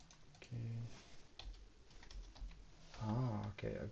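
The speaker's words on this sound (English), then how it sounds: "I was typing the wrong key, I think." Soft computer keyboard typing while working on a Go programming project, a faint patter of keys under a low background hum, with brief voice sounds breaking in.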